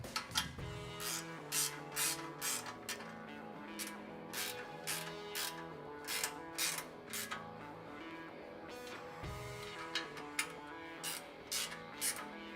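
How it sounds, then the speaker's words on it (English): A ratchet tightens four 5/8 bolts on a CBI rear bumper for a ZR2, giving quick bursts of close mechanical clicking in uneven runs over a steady tonal background. "you can go ahead and tighten down the 4 5/8 bolts"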